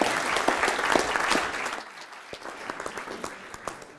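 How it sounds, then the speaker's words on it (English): Audience applause for speaker Steiner at a business seminar, a loud round of clapping that thins out midway into scattered individual claps. "Give a big applause to Steiner."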